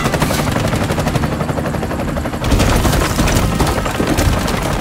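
Heavy gunfire rattles in the video game Bright Memory: Infinite, dense rapid bursts over a loud helicopter-like rotor roar, relentless and close, with a brief dip before the barrage resumes even harder.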